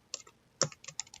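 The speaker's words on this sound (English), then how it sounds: "I'm going to type in here" Keys tapped on a computer keyboard make a short, light run of about half a dozen crisp clicks, close but soft in a quiet room.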